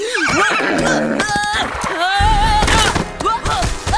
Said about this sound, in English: Oh, we have to ride the horses.